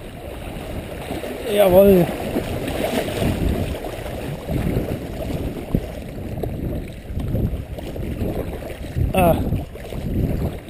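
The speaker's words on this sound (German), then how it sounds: "Auf jeden Fall wird das Wasser wieder deutlich wilder." River water rushes and gurgles around a packraft on the Radolfzeller Aach, a close, churning flow with splashes and microphone wind, while someone speaks briefly and exclaims.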